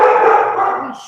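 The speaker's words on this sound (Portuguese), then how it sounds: "Ixi, meus cachorros." Dogs bark and howl, one drawn-out yelping bark carrying loudly for about a second before tailing off, close by and without any talking over it.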